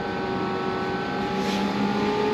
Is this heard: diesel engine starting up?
yes